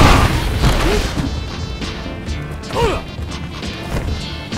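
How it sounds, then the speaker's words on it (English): Power bomb slam in Street Fighter V, heavy crashing thuds landing twice amid loud, busy game effects. "Power bomb."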